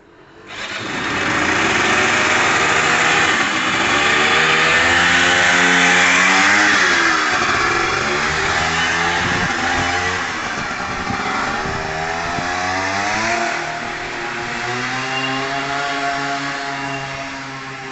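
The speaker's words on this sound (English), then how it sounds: "while Rabjab test rides the bike, if he can get it started" A Gilera DNA 125 motorcycle engine revs loudly and continuously on a test ride, its pitch climbing early, then holding and wavering as the throttle eases.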